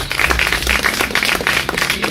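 A church congregation claps together in praise during a Spanish-language service, a loud, dense burst of applause that fills the room for a couple of seconds.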